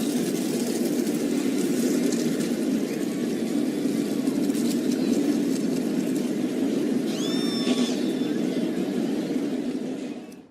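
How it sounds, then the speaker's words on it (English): Truck engines start up in NASCAR Racing 2003 for a truck series race, a dense, loud and constant low rumble from the whole field with a few faint high chirps partway through. "It's a good night for a race as the drivers get their engines started."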